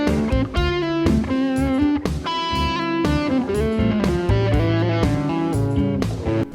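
Electric guitar played through Helix and Fractal digital models of a Fender Tweed Bassman amp, a clean, bright melodic passage of picked notes and chords with a steady rhythm, loud and close, with no talking.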